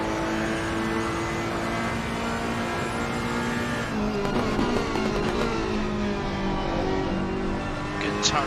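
Onboard sound of a Ferrari GT3 race car at Paul Ricard, its engine holding a loud, sustained high-pitched drone that shifts pitch as it runs on, with a commentator talking over it.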